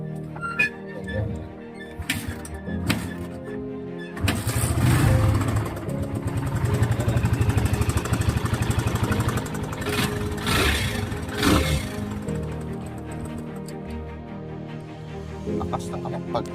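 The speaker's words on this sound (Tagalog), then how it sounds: "At ito malakas na naman ang tunog ng kanyang makina." A motorcycle engine being worked on in a repair session runs loud and rough, starting up after a few seconds and holding a steady, throbbing idle with some revving, with a few clanks and a voice talking nearby.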